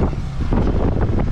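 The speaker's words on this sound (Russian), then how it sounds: "Ветер очень сильный, страшный, машину бросает." Strong storm wind buffeting a car on a road, a brief loud rumbling gust of wind noise with no talk.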